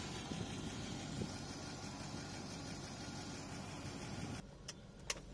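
Range Rover P38 air suspension lowering the vehicle after EAS recalibration: a steady broadband hiss and hum over the idling engine runs for several seconds, then cuts off near the end, leaving a few sharp clicks.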